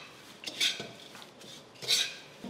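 A spoon scrapes and stirs a black chana masala chivda mixture in a pan over a low flame, making two distinct metallic scraping strokes close up, with quieter rustling between them.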